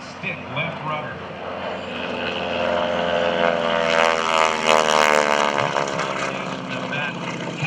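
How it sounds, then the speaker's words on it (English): A propeller airplane with a Hamilton Standard propeller roars past at an airshow, its engine and prop buzz swelling loudly toward the middle and staying strong, prop tips going supersonic, with a voice talking over it. "You're going to hear the full engine and prop."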